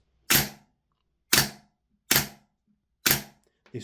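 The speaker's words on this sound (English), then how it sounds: "when the gun is fired, the nozzle sticks back in the rearward position" A Silverback MDR airsoft rifle fires four evenly spaced sharp cracks about a second apart, close and loud, with a fifth weaker shot starting at the very end; no voices.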